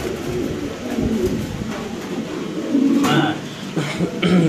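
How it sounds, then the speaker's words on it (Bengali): A black or white Spanish pigeon coos at a pigeon seller's, low repeated coos in a noisy setting, with people talking nearby and some shuffling and handling sounds. "এই কবুতরটা।"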